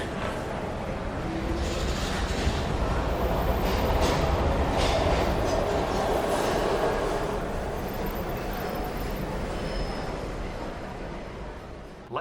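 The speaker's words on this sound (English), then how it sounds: "We've got to get on that train, Ethan." A train in the video game Heavy Rain rumbles steadily for about twelve seconds, a dense, close rolling roar with faint rail clatter, swelling slightly mid-way and easing toward the end.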